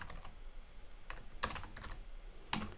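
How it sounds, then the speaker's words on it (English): Keystrokes on a computer keyboard entering a SQL truncate command, a few scattered clicks and short bursts of taps at close range over a quiet background. "let's type the SQL command truncate"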